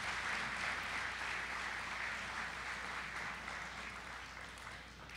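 A sustained round of applause at a college Hall of Fame and senior student-athlete recognition event, a dense, even wash of many hands clapping that holds steady and tapers slightly at the end.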